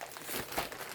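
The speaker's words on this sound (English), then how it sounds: "So mine comes in a bag with a zipper." A zippered plastic bag handled up close, giving soft crinkling and rustling that swells briefly in the middle of the moment.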